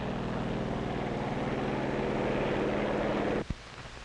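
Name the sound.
propeller control planes taking off from aircraft carrier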